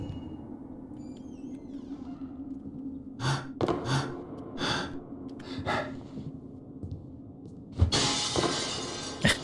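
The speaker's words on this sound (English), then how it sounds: "broken glass falling on my face." Glass shatters in the stealth game Thief 2, a loud bright crash near the end after a few quieter clinks and thumps over a low steady background hum.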